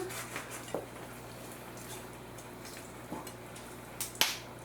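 A few small, sharp pops and clicks, quiet and close, as a duck's wing joint is bent back and pops, with one crisp snap standing out near the end over a faint background hum.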